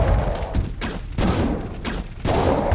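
Gunshots from the video game Resident Evil Code: Veronica X, a run of loud, close, sharp reports fired in quick succession with short gaps between them.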